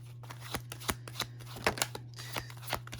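Tarot cards are shuffled by hand in a series of quick, crisp riffles and slaps at an irregular rhythm, close and fairly soft, over a steady low background hum.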